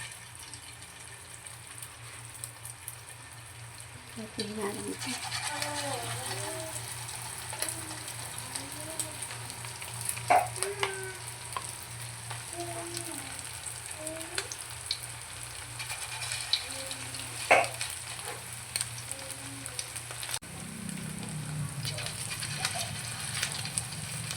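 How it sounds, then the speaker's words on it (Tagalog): Chicken balls fry in oil in a pan with a soft, steady sizzle throughout, joined by occasional clinks and faint bubbling, with low ambient hum beneath. "Lagyan na tayo ng mantika sa kawali. Then, maglalagay na tayo sa kawali."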